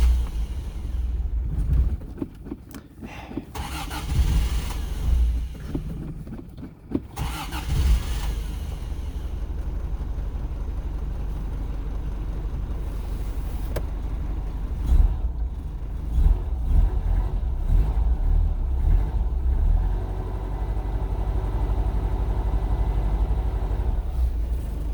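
A car engine with carburetor trouble and low compression runs unevenly close by, its rumble surging and stumbling before settling into a rougher steady idle.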